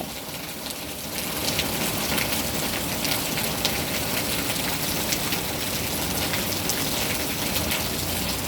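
Steady rain pours down continuously, a thick even hiss of drops on surfaces that holds constant throughout.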